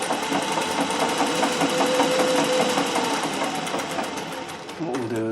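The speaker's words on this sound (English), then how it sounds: "You hear the extra bobbin noise when it goes over the hump." A treadle-driven Singer 411G sewing machine stitches at a steady pace, its rapid mechanical clatter and bobbin noise forming a dense rhythmic chatter that slows near the end.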